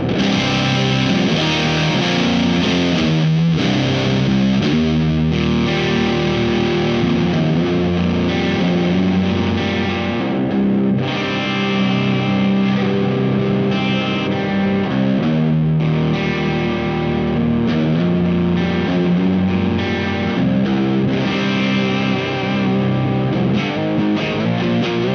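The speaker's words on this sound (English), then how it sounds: "Metal me, Alex. Metal pedal." Heavily distorted electric guitar in C standard tuning played through a Fender HammerTone Metal pedal, a continuous loud riff of chugging palm-muted chords and sustained power chords over about twenty-five seconds, with no talking.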